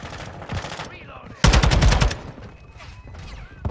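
Gunfire in Modern Warfare 2 inside a building, short automatic bursts with a loud rapid volley in the middle and scattered shots around it, close to the player.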